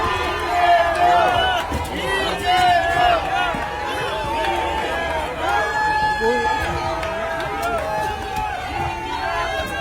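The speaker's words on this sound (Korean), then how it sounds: "뜨거운 함성으로 불러주십시오." A rally crowd in the rain in Changwon cheers and shouts for a Democratic Party leader, a loud continuous roar of voices with babble running throughout the clip.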